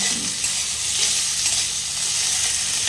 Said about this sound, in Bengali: এইভাবে একটু ভেজে নেব, আমি ভেজে নিতে হবে